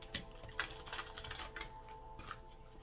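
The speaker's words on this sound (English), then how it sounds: "3 shuffles, and then we cut the deck by" Tarot cards shuffled by hand in quick, quiet bursts of riffling and flicking, with no talking.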